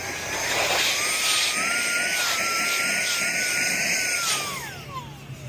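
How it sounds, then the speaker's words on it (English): A vacuum on a car windshield rock chip runs with a steady motorized whine and high-pitched hum for several seconds, shifting slightly in tone before winding down at the end. "I'd rather just vacuum it"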